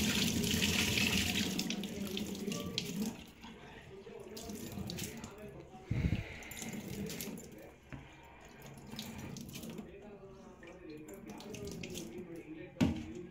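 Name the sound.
washing rice under running water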